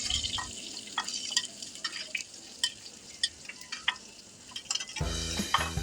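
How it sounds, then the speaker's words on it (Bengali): Surma fish frying in oil sizzles steadily up close while a spatula scrapes and ticks against the pan at intervals. A louder, harsher noise cuts in near the end. "এখন আরেক পিঠ হচ্ছে ভালো মতো ভেজে নিব"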